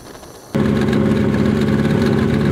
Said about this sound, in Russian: Мотор троит, мы поочередно отключаем цилиндры и смотрим, какой из них.